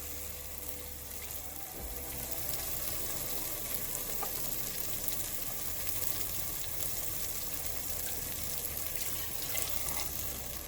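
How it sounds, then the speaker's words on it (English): Water is poured into a hot frying pan of egg chilli curry, giving a steady broadband sizzling hiss at an even level throughout, close by. "Now add water."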